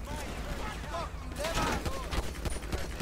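Gunfire in a GTA 5 gang mod video game, rapid overlapping shots and bursts amid chaotic game noise, with someone talking over it.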